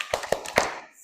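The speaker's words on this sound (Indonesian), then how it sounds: "Oke, tepuk semangat dulu ya." A classroom of students doing a rhythmic cheer clap, a few sharp, distinct claps in a short patterned burst, close and fairly light, fading into a quiet room afterward.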